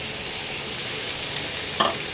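Onion with chopped tomato frying in a pan, a steady close sizzle with a brief louder crackle near the end.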